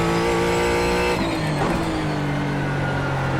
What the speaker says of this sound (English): Nothing like a bit of drifting.